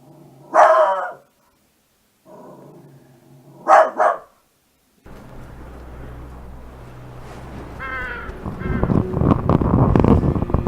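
A dog barks loudly nearby in two separate bursts with silence between, then a steady windy background noise builds with rising clatter toward the end.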